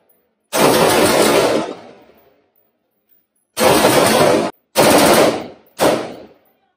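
Loud, close bursts of automatic gunfire at a shooting range, one long sustained burst followed by three shorter bursts with brief gaps between them.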